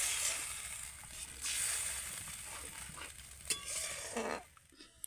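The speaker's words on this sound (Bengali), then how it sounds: "এখন আমি মশলার মধ্যে জল দিয়ে দেব। জলটা দিয়ে ঝোলটাকে আমি ভালো করে ফুটিয়ে নেব।" Water goes into fried spice paste for a Bengali fish curry gravy, giving off a soft hissing sizzle that fades and rises. Light stirring and utensil clinks sound nearby, and the whole thing stays quiet with no speech.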